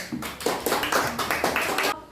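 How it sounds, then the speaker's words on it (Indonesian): Class applause after a student group presentation in a school lesson, a short burst of uneven hand claps lasting about two seconds with voices mixed in. "Tepuk tangan dulu."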